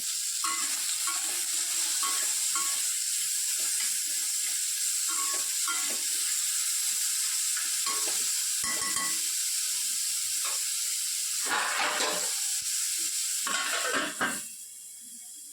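Food frying in a pan with salt added, heard as a continuous close sizzle and hiss with scattered spatula scrapes and clinks, louder bursts of stirring near the end before the sound drops away, no voices.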